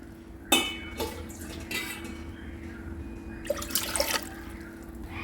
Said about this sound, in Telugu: 2 గ్లాసులు నీళ్ళు పోస్తున్నాను.